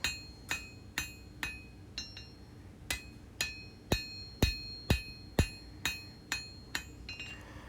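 Ringing blows from a hand hammer fall on a forged steel full-tang integral bolster knife blade resting on an anvil, smoothing out hammer marks: about fifteen crisp metallic strikes in a steady rhythm, close and clear, with a few heavier hits mid-sequence.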